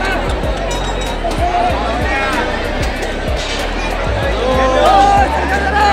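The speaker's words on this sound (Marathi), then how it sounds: "खूप जास्त गर्दी आहे यार, खूप जास्त गर्दी आहे." Large crowd of devotees chattering at a temple during a Bhogi celebration, dense close babble of many overlapping voices with footsteps and movement mixed in.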